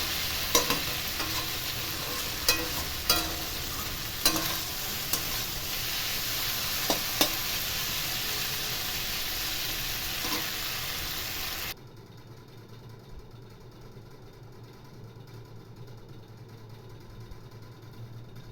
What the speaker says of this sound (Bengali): একসাথে করে আমি নেড়ে চেড়ে কষিয়ে নেব।